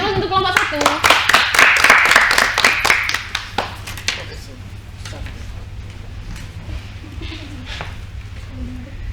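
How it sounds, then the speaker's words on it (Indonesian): A classroom audience claps for group 1 in a microteaching session, a burst of many hands that peaks within the first few seconds, then thins to scattered claps under a steady hum, with voices talking during it. "Beri aplaus untuk kelompok 1."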